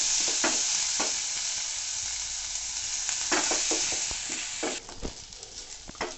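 Chopped onion frying in a pan over a steady flame for Sindhi tomato chutney: a constant bright sizzle with scattered scraping stir strokes, loud and close, no voices.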